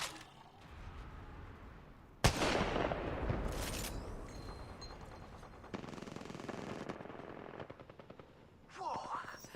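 Gunfire in the video game Haunted by Daylight: sharp bursts of rapid automatic fire and heavy impacts, loud and punchy, separated by quieter stretches, with a whooshing swept sound at the end.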